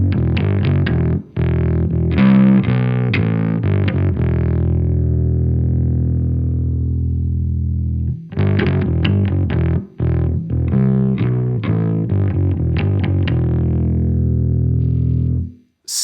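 Bass guitar played through a DOD Boneshaker distortion pedal, with heavy, gritty distorted notes in two long phrases: quick picked runs that ring out into sustained fuzzy tones, with a short pause between phrases.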